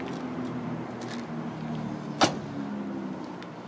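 A 1966 Ford Thunderbird trunk lid shuts with one sharp, fairly close thump, standing out briefly above a steady low background hum.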